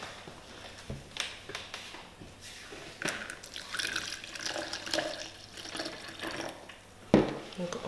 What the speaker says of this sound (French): Je pense rajouter un tout petit peu d'eau encore.